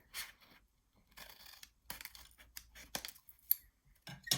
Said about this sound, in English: So I'm just gonna go ahead and cut that.